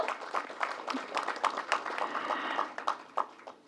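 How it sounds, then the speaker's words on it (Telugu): Audience clapping at a Telugu movie trailer event, a scattered, moderately loud round of applause with sharp individual claps and a faint voice beneath it. "ఒకసారి గట్టిగా క్లాప్స్ కొట్టేసి మన రెస్పాన్స్ చెప్పేద్దామా?"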